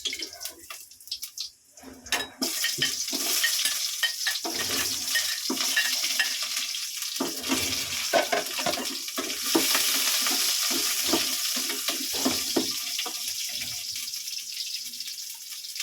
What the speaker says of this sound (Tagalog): Ayan, pag-brown ng ating bawang, sunod natin ang sibuyas.